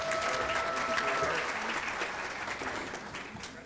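A banquet audience at a school district service recognition and retirement dinner applauds for retiring staff, a dense, sustained wash of clapping that slowly tapers, with a faint voice near the start.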